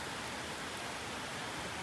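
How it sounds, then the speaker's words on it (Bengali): Heavy rain pours down steadily outdoors, a dense continuous hiss and patter that stays even and fairly loud throughout with no voices over it. "বৃষ্টি তো এমন হচ্ছে, মনে হচ্ছে আজকে কাজ হবে না"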